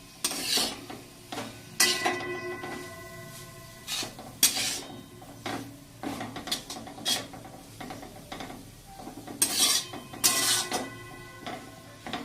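A spoon stirs a coconut barfi mixture in a pan over a low flame, with repeated close metallic scrapes and clinks against the pan in an uneven rhythm and no talking.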